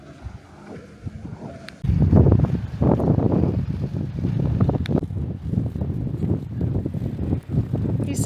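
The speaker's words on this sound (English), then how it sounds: "it's very windy up here." Strong wind on a clifftop near Old Harry Rocks in Dorset, a gusty roar pummeling the microphone that starts quieter, then surges loud and stays blustery throughout.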